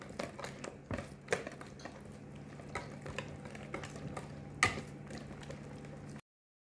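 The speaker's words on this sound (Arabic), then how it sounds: "غادي نخلط هاد المكونات مزيان" Spoon stirring a spinach pie mixture of garlic cloves and cream cheese in a bowl, a steady scraping and clinking with occasional sharper knocks against the bowl, close and fairly quiet, with no talk.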